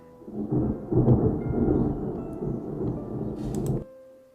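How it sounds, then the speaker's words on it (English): Loud, rumbling thunder roll laid in as a sound effect for a video edit with flashing lightning, building in swells for nearly four seconds before cutting off abruptly, with no talk. "I have synced the sort of flashing lightning effect with the thunder audio"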